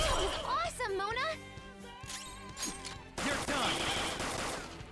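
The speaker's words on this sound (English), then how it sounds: "Gunfire's still pretty decent here." Gunfire attack in the video game Persona 5 Royal, sharp bursts of shots ringing out over sweeping, tonal battle music and effects.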